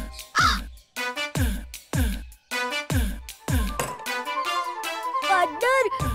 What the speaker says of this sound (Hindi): अरे ये कौवा हमला कर रहा है